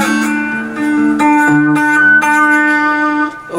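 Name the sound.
guitar playing a song phrase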